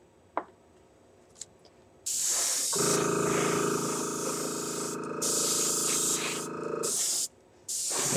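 Alclad chrome lacquer sprays from an airbrush in a long, steady hiss lasting several seconds, close and loud, with a couple of short clicks before it starts and brief pauses near the end.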